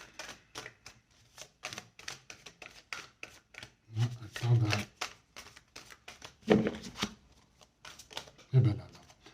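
Tarot-style cards are shuffled for a card reading, giving rapid riffling bursts and soft slaps in quick irregular runs, close and crisp, with a few louder thumps as the deck is tapped, and a voice speaking between them.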